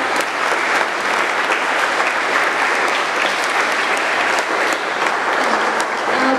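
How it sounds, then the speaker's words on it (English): Dense, steady applause from a school assembly audience of junior students, loud and continuous throughout with no talk over it. "Please give a round of applause to them."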